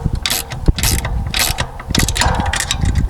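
A ratchet is tightening bolts on an RV satellite internet mount, making rapid close clicking bursts in quick repeated strokes, loud and alone.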